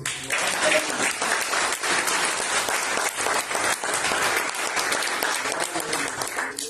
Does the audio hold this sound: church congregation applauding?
yes